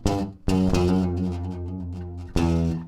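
Bass guitar plays a short funk riff with a slurred note, sustained, clean tones sounding alone and close with a sharp attack at the start and a fresh note near the end.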